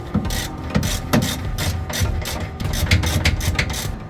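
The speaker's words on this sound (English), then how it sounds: "Using that adjustable wrench on the back and tightening." Metallic ratcheting and scraping as an adjustable wrench tightens the flag nut on a Jeep control arm, steady close-up clicks and rubbing with no talking.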